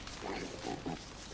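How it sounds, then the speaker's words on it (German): Pigs grunt and squeal while being attacked in the video game Don't Starve, a few short nasal grunts over a loud, noisy game background. "Die hauen gerade die Schweine"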